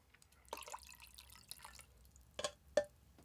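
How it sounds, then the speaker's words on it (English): Water is poured into a G Fuel drink in a few short splashes and drips, quiet and close, with small gaps between each pour. "I do want to add more water to it though"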